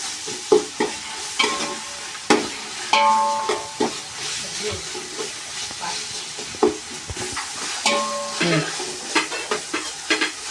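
Tomato, ginger and garlic frying with onions in oil for biryani, with busy stirring scrapes and metallic clinks over a soft sizzle, close and irregular, with a few brief pot rings.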